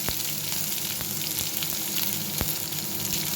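Chopped onion and garlic fry in hot oil for a beet fry, a steady soft sizzle running throughout with occasional light taps of stirring.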